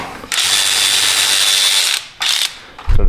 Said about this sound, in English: We're gonna use an 11mm on the banjo bolt here.